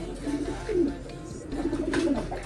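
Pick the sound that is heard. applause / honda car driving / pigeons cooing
pigeons cooing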